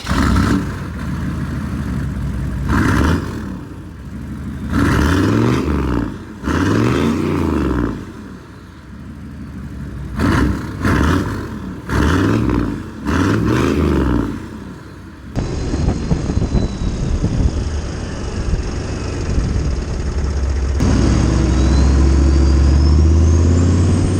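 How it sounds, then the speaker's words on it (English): A 6.5 diesel truck engine runs loud and steady, rising and falling as it revs several times, then settles into a rougher rumble with wind and road noise. "it makes enough noise where like it's enjoyable driving around"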